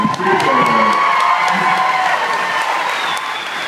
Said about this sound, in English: Ladies and gentlemen, round of applause for Norman and Reedus.